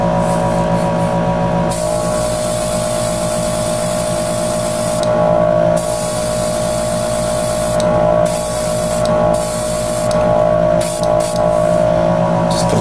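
An airbrush or spray can lays a light coat of paint on a 1/144 HG Gundam Zaku model part, giving off a loud, close hiss in bursts with short breaks, over a constant low compressor-like hum.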